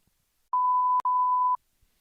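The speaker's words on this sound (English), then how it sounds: "We'll beep it." A steady mid-pitched censor beep runs about a second, cut by a brief click, then resumes for another half second before stopping into near silence.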